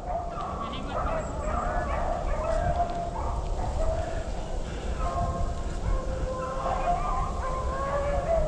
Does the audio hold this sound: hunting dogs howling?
yes